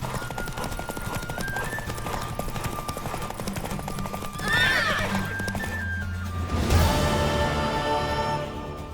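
A horse in a race in the video game The Witcher 3 gallops with steady rapid hoofbeats under game music, breaking into a loud whinny partway through and again near the end.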